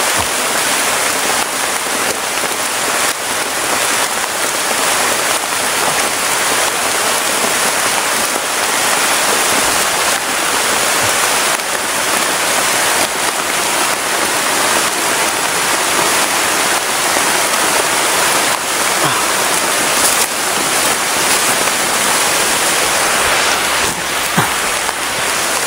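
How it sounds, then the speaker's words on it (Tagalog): Heavy rain pours steadily and loudly, a dense continuous roar of water on surfaces with no letup and no voices. "Lakas pa yung ulan tol."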